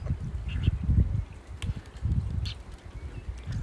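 Several short, low quacking or honking bird calls sound close by in quick bursts over a soft rustling outdoor background, with no talking.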